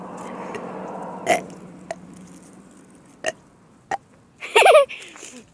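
Short burps and hiccup-like gulps during a burping challenge, several abrupt bursts spaced across the stretch, close and loud, with a person's voice audible in between.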